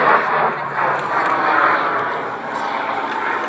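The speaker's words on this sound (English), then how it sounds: "you see the rate of acceleration of this aircraft towards us now" A Grumman F8F Bearcat piston fighter accelerates toward the crowd at a Shuttleworth Fly Navy airshow, its engine a loud, continuous broadband roar that swells and holds, with a voice faintly underneath.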